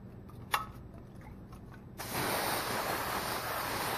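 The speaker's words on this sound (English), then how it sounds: "And I'm going to spray it." After a brief scrape, a steady hairspray aerosol hisses continuously for two seconds onto a ribbon bow, close and fairly loud.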